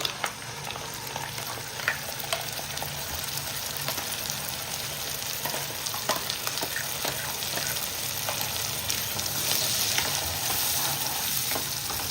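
A paste of cooked onion and tomato fries steadily in hot oil for paneer butter masala, giving a continuous close sizzle with occasional stirring scrapes.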